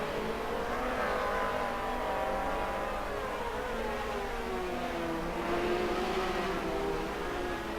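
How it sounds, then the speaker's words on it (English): Alfa Romeo 155 race car with a V6 in the racing sim Assetto Corsa at Mugello, engines droning and shifting pitch steadily as cars run close together, with race commentary over the top. "The V6 power of the 155 should see him past Hembury here."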